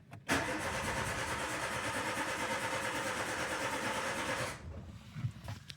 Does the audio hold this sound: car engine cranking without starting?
yes